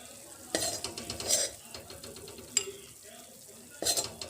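Naharur chutney spooned from a pan into a serving bowl, with soft scraping and clinks of a spoon against the dish in a few separate bursts, fairly close and quiet.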